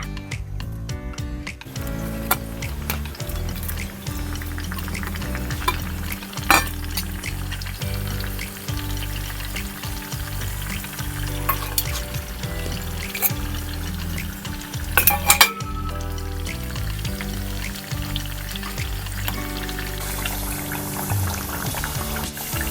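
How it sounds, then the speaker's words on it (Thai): Potatoes deep-fry for a second time in hot oil, giving a steady close sizzle and bubbling, with scrapes and clinks of a utensil stirring in the pan throughout. "ต่อไปเราจะนำมันฝรั่งที่ทอดครั้งแรกนะคะ ไปทอดครั้งที่สองค่ะ"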